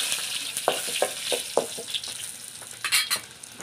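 Garlic and bay leaf frying in hot oil, a continuous close crackling sizzle broken by several sharp clacks of a spoon stirring against the pan.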